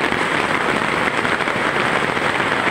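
Very heavy rain pours down in a Sorsogon City downpour, a dense, steady roar of drops hammering surfaces with no letup, loud and close with no voices.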